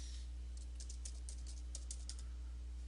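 Someone types on a computer keyboard, a quick run of soft, close keystrokes over a constant low electrical hum.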